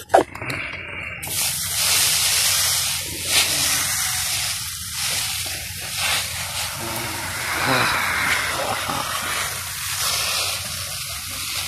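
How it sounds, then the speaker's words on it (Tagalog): Organic pesticide sprayed onto squash plants, a steady close hissing spray that runs almost the whole time after a brief knock at the start. "Pati katawan guys, dapat yung ispirahan din natin itong ating organic pesticide."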